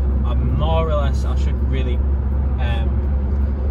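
Rover 75 diesel car cruising on the motorway, a steady low engine and road drone heard from inside the cabin while someone talks over it.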